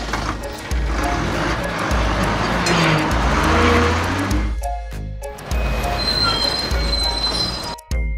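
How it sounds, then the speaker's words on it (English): A cartoon Mexico bus travels down the street amid a steady, near, loud engine drone with tire squeals and passing-vehicle whooshes, dipping briefly midway and again just before the end. "Mexico bus."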